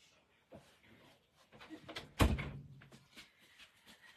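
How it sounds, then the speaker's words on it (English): An interior door is opened during an online class, a soft thump and short rattle near the middle, with faint room noise before and after. "I just opened the door"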